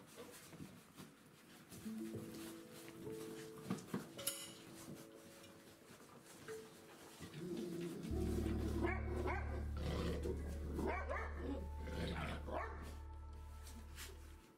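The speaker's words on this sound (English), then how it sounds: "how an experienced dog mother teaches her 8-week-old puppies to be calm" A mother dog and her 8-week-old puppies bark and growl, starting with scattered yaps and rising into a loud, dense flurry of overlapping barks under a constant low hum through the second half.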